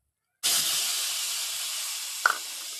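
Ginger, garlic and onion paste drops into a hot pan just used for frying potatoes, bursting into a loud, sudden sizzle that holds as a steady hiss, with a brief clink near the end.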